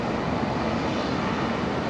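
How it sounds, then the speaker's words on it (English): An Embraer 190 jet airliner arriving at Brisbane Airport from Canberra gives off a loud, steady engine roar that fills the short stretch without a break. "this is our next arrival coming in from Canberra, the Embraer 190"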